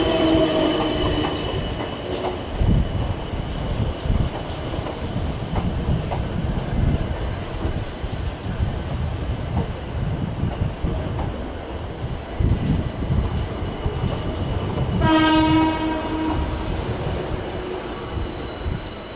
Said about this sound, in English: another arrival into platform one, and it's a pair of 455s from Chessington South